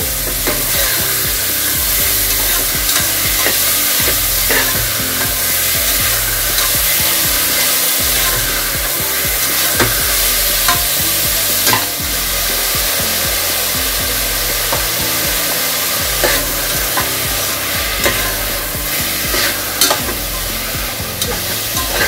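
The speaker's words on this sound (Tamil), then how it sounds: "ஆனியனும் மீட்டும் வந்து ரெண்டும் சேர்த்து வதக்கும் போது" Mutton pieces and onion sautéing together in a pan for mutton beetroot gravy, a loud, dense, unbroken sizzle with constant scraping and stirring close by.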